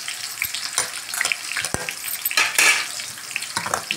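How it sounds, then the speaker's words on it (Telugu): Ivy gourd tossed into a hot tempering of oil and fresh curry leaves sizzles and crackles steadily, with intermittent scraping stirs of a spoon against the pan. "ఈ తాలింపులో మనం దొండకాయ వేసేసేయాలి."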